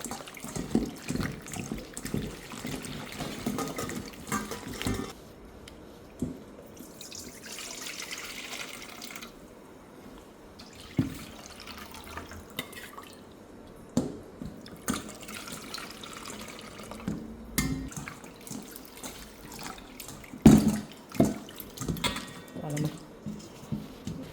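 Shrimp being rinsed by hand in a kitchen sink with tapioca starch and rice water, running tap water splashing and trickling steadily with intermittent sloshing bursts, under a voice talking.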